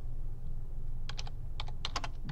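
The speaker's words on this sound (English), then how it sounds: "If I come up here, I can actually type the text." Quick keystrokes on a computer keyboard while entering text into an Excel spreadsheet, a faint cluster of close clicks in short bursts over a low steady hum.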